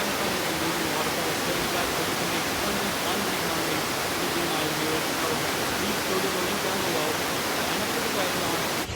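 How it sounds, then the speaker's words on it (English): Constant rushing roar of a waterfall, a steady dense hiss of falling water that stays loud and unbroken throughout with no other sounds standing out. "you just hear the shh of the constant water coming down"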